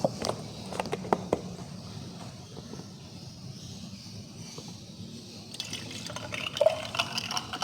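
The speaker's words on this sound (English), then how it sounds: "and then I'm gonna pour some milk." Milk poured over four ice cubes in a glass while making dalgona coffee, a steady liquid pour with light clinks and drips, close and moderately quiet.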